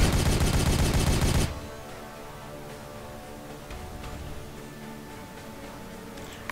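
A loud, dense burst of gunfire in Warhammer 40,000: Regicide opens, then cuts off abruptly to quieter game ambience with faint distant shots.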